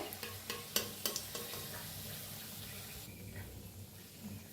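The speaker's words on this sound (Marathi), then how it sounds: "आता तळलं गेलेलं आहे, काढून घेते" Bread pakora fries in hot oil, a steady sizzle with a few sharp clicks and scrapes near the start that fade into a softer, quieter bubbling.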